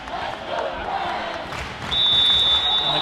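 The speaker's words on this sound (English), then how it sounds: "And the crowd comes alive as the Preds try to open up their lead even further." Spectators at a boys' 18U championship match raise a broad crowd roar that swells louder partway through, with a whistle-like tone sustained over the noise in the second half.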